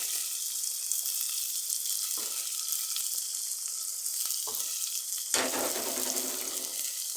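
Green chillies sizzle and crackle in hot oil for a bitter gourd curry as they are stirred in a pan, a steady close frying hiss broken by a few scraping strokes and a louder burst near the end.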